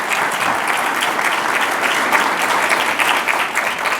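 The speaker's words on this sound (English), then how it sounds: "Give them a round of applause." Steady, dense applause from an audience at an employee and officer of the month breakfast, continuous and fairly loud throughout with no pauses.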